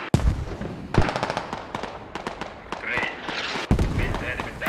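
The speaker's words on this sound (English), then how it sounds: "Close mortars still being fired from all directions." Mortar rounds fired close by and from several directions in the video game Squad, a series of sharp booming thuds and cracks spread across the clip, with a couple of heavy hits standing out and voices talking underneath.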